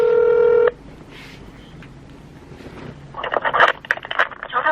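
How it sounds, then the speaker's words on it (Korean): A phone keypad tone sounds up front, followed by a pause and then a burst of rapid, loud beeps as a number is dialed to reach Converse Korea's customer center. "컨버스 코리아에 전화를 해보도록 하겠습니다"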